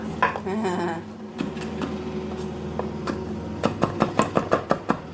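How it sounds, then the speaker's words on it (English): Fresh basil, parsley and thyme chopped with a knife on a board in a home kitchen, a quick run of rhythmic close taps near the end after scattered knocks and brief kitchen clatter. "I'm showing off my chopping skills."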